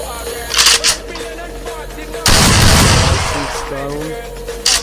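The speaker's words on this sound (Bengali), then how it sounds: "এবার দুই গুলি দিয়ে একটা হেডশট মারার চেষ্টা" Gunfire in the mobile game Free Fire during a one-on-one headshot match: a couple of sharp shots early, then a long loud burst of firing, with a voice talking over parts.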